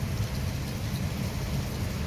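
Heavy rain pours steadily in Rawalpindi with a deep, continuous rumble of thunder underneath, a dense, loud and unbroken roar with no voices.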